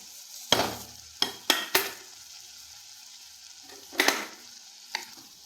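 Grated coconut is added to pineapple thoran in a pan: a few distinct scraping stirs and spoon knocks come in short bursts over a soft background sizzle, with quiet gaps between them.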